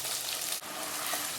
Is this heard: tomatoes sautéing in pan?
yes